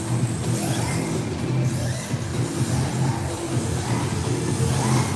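Radio-controlled drift cars race at an indoor RC drift competition, their small motors whining and buzzing in overlapping pitches, with repeated revving swells and light tire scuffs throughout.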